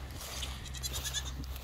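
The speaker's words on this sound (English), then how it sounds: "But they're in here with the billy goats." Nigerian dwarf goats, young bottle kids penned in with billy goats, give a few faint, soft bleats over a steady low hum of the barn setting, with no talking.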